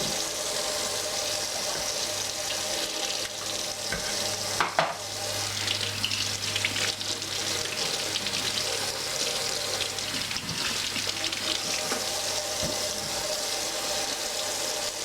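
Tap water pours steadily into a kitchen sink while a cucumber with its stem cut off is rinsed for dill pickles, a continuous close hiss and splash with a few small knocks and no talking.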